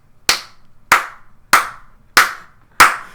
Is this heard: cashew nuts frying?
no